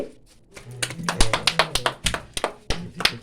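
Hands clap in a quick, slightly uneven series of sharp, fairly close claps during a village game, with a faint voice in the background.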